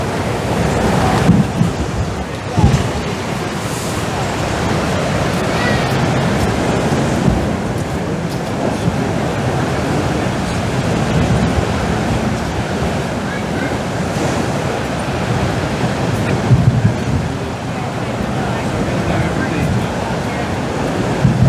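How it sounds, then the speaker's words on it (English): Heavy surf roars continuously as waves crash against the seawall at Dawlish, with gusts of wind buffeting the microphone throughout. "You can see those waves meeting out at sea on the return, smashing into one another"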